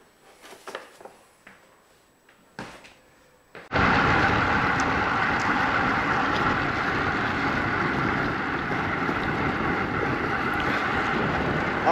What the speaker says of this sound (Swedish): Ja, det är vind, men det är inte så mycket i alla fall.